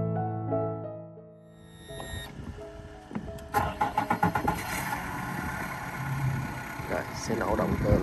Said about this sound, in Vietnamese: Sẽ nổ động cơ lên.